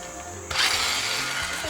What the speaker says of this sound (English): So you want to tighten one lug nut. Now you can do the rest.